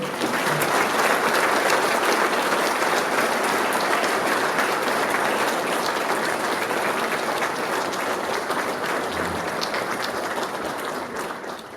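Sustained audience applause at an accordion enthusiasts' national gathering in Ísafjörður, dense and steady throughout, a large crowd clapping without pause and tapering slightly at the end.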